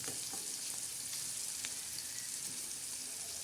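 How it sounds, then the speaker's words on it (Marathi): Onion and tomato tadka for usal sizzling steadily in hot oil, a dense, even crackle with occasional sharper pops, close and continuous throughout. "बघा तसं तडका बसत आहे"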